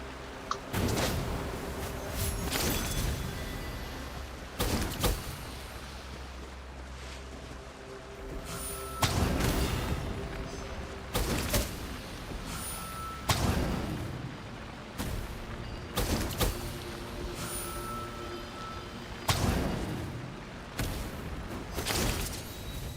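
Heavy cannon blasts from a siege weapon in the game Genshin Impact boom out in a series of loud, separate shots, several spaced a few seconds apart over a rumbling battle background.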